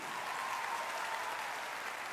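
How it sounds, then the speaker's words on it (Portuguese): Audience applause at a lively variety show, a steady dense wash of clapping that stays even and fairly loud for a couple of seconds with no voices on top. "Palmas para o pai da Larissa Manuela aqui"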